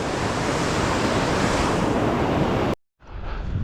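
Illilouette Creek in Yosemite rushes loudly and steadily as broadband water noise, with some wind buffeting the microphone. The sound cuts out briefly near the end, then resumes more faintly.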